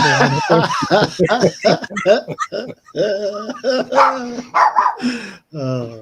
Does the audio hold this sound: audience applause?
no